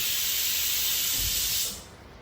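Steam hisses loudly and steadily from a pressure cooker while egg curry cooks, a dense broadband rush that holds for about a second and a half, then cuts off abruptly and leaves a faint quiet tail.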